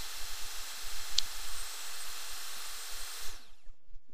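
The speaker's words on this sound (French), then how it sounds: "j'ai transformé ma perceuse en tour à bois" A power drill mounted upside down in a vise as a makeshift wood lathe, turning a wooden pendant blank, gives a steady loud motor whine and hiss with faint scraping that cuts off near the end as the drill stops.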